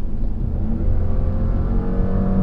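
A 2020 Porsche Cayenne Coupe V6 without the sports exhaust accelerates, giving a steady, fairly loud low engine drone with a smooth rising tone throughout, and no talking.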